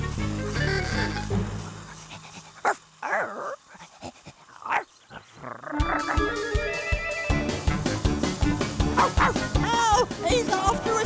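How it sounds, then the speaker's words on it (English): Animated cartoon dog barking, yipping and growling during a chase, mixed with lively background music and sound effects; the barks come in repeated bursts, loud and close, with brief voices in between. "Silly dog. He thinks we're playing fetch."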